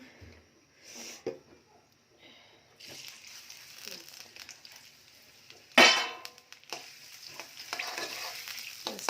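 Onions frying in oil in a home kitchen, a low crackling sizzle with stirring scrapes and a sharp utensil clank partway through, fairly faint and intermittent.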